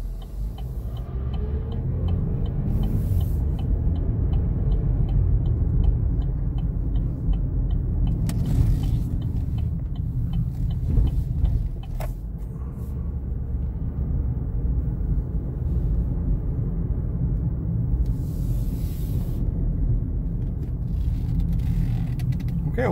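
A 2021 Chevrolet Equinox LT AWD on a test drive, its steady low road and engine rumble filling the cabin throughout with a faint ticking indicator and a few brief knocks, no talking.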